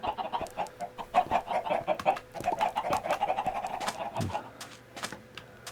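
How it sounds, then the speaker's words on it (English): Minecraft chickens cluck in a rapid, steady run of short, soft clucks that carry on for several seconds, alone and fairly faint. "Some chickens somewhere."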